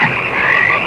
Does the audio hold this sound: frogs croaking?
yes